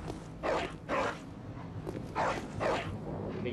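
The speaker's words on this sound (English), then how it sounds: "I don't like the sound of dogs." Dogs barking in the video game Bloodborne, four sharp, fairly faint barks in two pairs over a quiet background.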